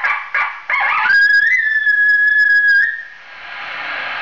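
A chicken call plays from a home-made electronic caller: short clucking bursts lead into a long, loud, whistle-like crowing tone. The sound is close and electronic, then fades to a low hiss.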